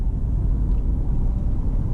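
A 2018 Nissan Versa accelerates at full throttle, heard from inside as a steady, loud low engine and road rumble with no talk.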